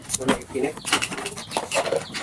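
Chickens cluck and chatter in short bursts close by, with a person talking over them.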